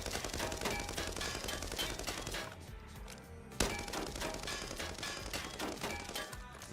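Rapid gunfire from a video game weapon during a recoil pattern test, sustained automatic bursts with a short pause midway, loud and dense throughout.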